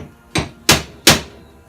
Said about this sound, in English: I'm going to center punch now so the drill doesn't slip.